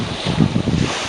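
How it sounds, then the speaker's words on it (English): Steady wind roars over a Beneteau First 405 sailboat spinnaker reaching in about 12 to 15 knots off Cabo Pulmo on Baja's East Cape, a loud, continuous gusty rush with low rumbling buffets and no voices. "maybe 15 knots of wind."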